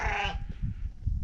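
Sheep in a winter pen, fed on hay and water, let out a loud, close bleat at the start, followed by low shuffling and grunting noises.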